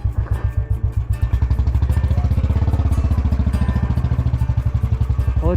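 A motorcycle engine near Manali chugs steadily with a rapid, even thumping pulse. It starts lower, then settles into a louder, constant run heard up close.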